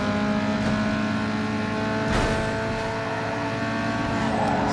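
A GTR's engine roars in the racing game Need for Speed Underground 2, a loud sustained drone with a sharp rev surge midway, steady and close with no talk over it.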